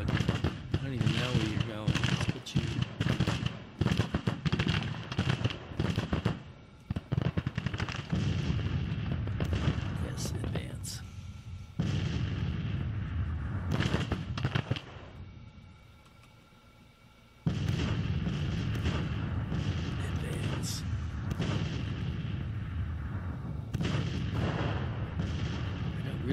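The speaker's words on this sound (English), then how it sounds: "so my guns are starting to fire" Artillery guns firing in Grand Tactician Civil War, repeated booming cannon blasts and scattered gunfire rolling through a continuous battle din, with a brief lull midway before the barrage resumes.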